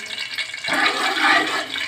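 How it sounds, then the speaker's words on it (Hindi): Cloves and cardamom hit about a cup of hot oil for a zarda tempering, setting off a sudden bright sizzling hiss partway through. The sizzle then holds steady and close. "ये जी ऑयल हमारा गरम हो चुका है और लौंग और इलायची हम इसमें डाल देंगे।"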